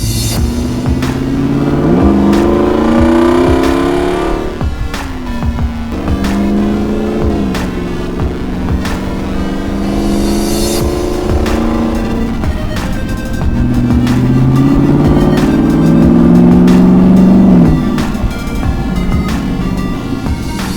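A 2021 Jeep Gladiator Mojave with a 6.4L Hemi V8 drives along, its deep engine rumbling loudly and steadily as it repeatedly revs up and shifts through the gears.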